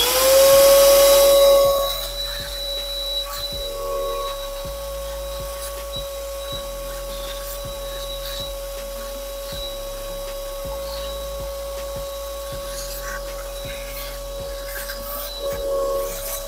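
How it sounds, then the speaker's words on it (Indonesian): A RYU RVC15 vacuum cleaner sucks up dust with a steady, close motor whine, after a louder burst at switch-on, while the nozzle repeatedly knocks and scrapes across a surface. "saya coba akan bersihkan ya menggunakan vakum ini"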